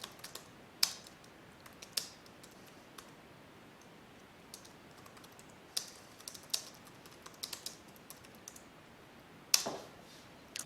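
Someone types a sentence on a computer keyboard in a quiet room, producing a handful of sparse, isolated key clicks and taps with long pauses between them, faint and close.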